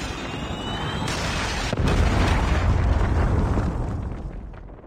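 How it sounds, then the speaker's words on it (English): Predator missile explosion in Call of Duty Mobile multiplayer, a loud, sustained roaring blast with a sharp jolt near the middle, then a rumbling wash that slowly fades. "Predator missile inbound."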